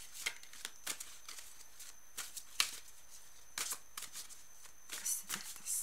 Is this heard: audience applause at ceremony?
no